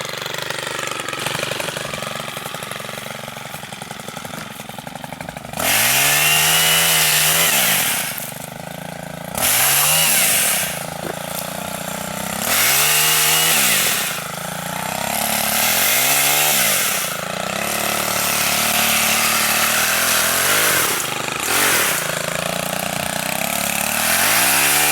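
A Stihl HT131 pole saw runs close by, its engine idling at a rough steady drone and then revving up again and again into loud buzzing bursts, with the pitch rising and falling.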